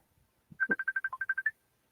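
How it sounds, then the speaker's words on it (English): A Facebook incoming call ringtone plays as a quick run of about eleven even, bright electronic beeps lasting about a second, fairly faint in an otherwise quiet room. "my husband's calling me on Facebook"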